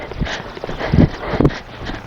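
A horse's hooves clip-clop at a walk in an arena as the horse leg-yields off the rail, moving sideways while staying parallel to the long side; a few soft, irregular thuds stand out close by over a low background.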